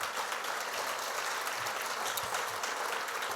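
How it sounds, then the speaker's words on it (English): Steady audience applause at a State of the City luncheon, a dense wash of many hands clapping that stays even for a few seconds with no voices on top. "Can I get some claps for that?"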